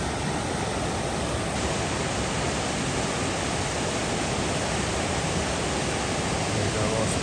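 Water rushes and splashes near a covered bridge on the Appalachian Trail as a constant, full hiss throughout, with a voice briefly under it.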